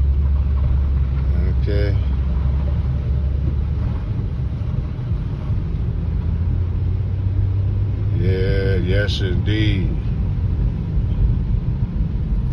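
A car creeps slowly through flash-flood water on a Las Vegas street, a low steady rumble with wind buffeting the microphone, while someone talks briefly over it.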